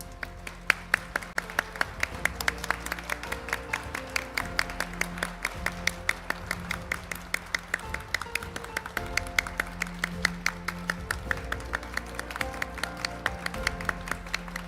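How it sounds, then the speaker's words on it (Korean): Attendees at a Korean court day ceremony applaud as the chief justice, justices and guests leave the hall, a long, even stretch of crowd clapping at moderate level with rapid overlapping claps and no voices. "큰 박수로 환송해 주시기 바랍니다"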